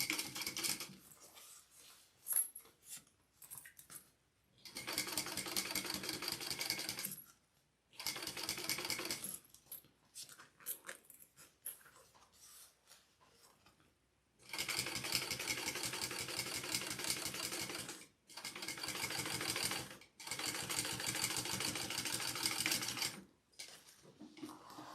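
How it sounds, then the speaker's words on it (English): A sewing machine topstitches along the top edge of a bag's zipper pocket, running in fast whirring bursts of several seconds each, separated by short pauses, with no talking. "I'm going to top stitch along the top edge"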